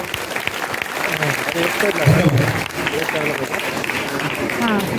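An audience at a children's literature convention claps in a burst of applause that swells and then settles, with a voice speaking over the clapping from the stage.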